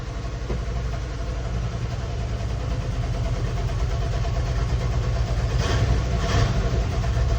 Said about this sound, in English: Let's drop her down in gear and just see if she goes in gear.